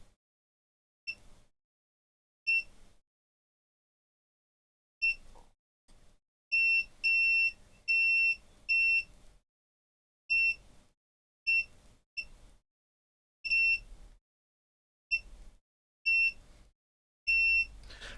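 Short electronic multimeter continuity beeps sound repeatedly at irregular intervals while testing Nintendo Switch capacitors, some brief chirps and some longer tones, clear and close with quiet gaps between.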